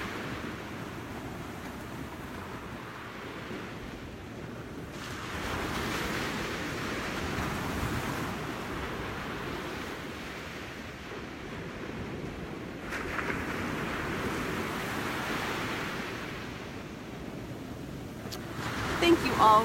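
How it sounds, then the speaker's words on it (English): Ocean waves wash onto a beach at sunrise in a continuous surging roar, swelling and easing in slow cycles with some wind noise, and no voice is heard. "I hope you enjoyed the sound of the waves."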